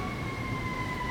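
A siren passes outside during a truffle and salumi tasting, heard as two steady held tones over low rumble, fairly loud and unbroken with no talk over it.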